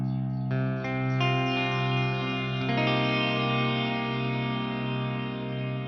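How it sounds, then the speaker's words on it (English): Electric guitar played through a Boss Terra Echo ambient delay pedal, sustained chords with layered echoes and shimmering reverb trails building into a continuous wash, loud and close with no talking. "It's called a Boss Terra Echo."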